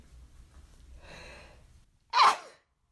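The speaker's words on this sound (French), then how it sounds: "Faut que j'éternue." A single sharp, loud sneeze bursts out near the end, after a soft breathy inhale, close and alone with no talk over it.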